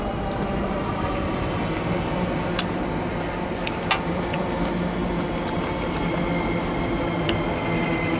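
A train passes close by with a loud, continuous rumbling roar, marked by occasional sharp metallic clicks and clanks from the wheels throughout.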